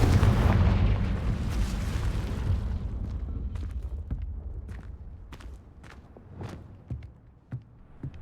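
A Confringo blasting spell from Hogwarts Legacy erupts loud at the start, a booming explosion with rumbling debris that slowly fades, followed by scattered sharp clicks and footsteps.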